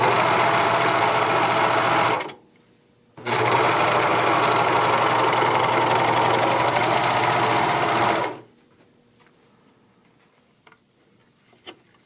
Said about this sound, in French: si je viens faire la finition surjet, j'aurais très bien pu faire un point zigzag, mais la surjeteuse, c'est plus rapide